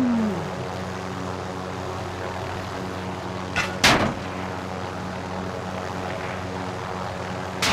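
A helicopter drones steadily in a Fallout: New Vegas–style game, a continuous mid-distance engine and rotor hum with a sharp impact burst partway through.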